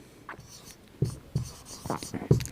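Chalk or marker strokes on a classroom board as the name of a chromium coordination compound is written, several short scratchy bursts of writing at close range, quiet between strokes.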